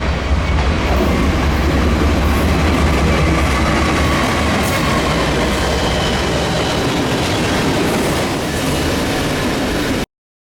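Train B10 rolls past loud and close on a depot line, with a continuous rumble of wheels and a heavy low drone. Faint rail squeals come through on top, with no voices over the noise.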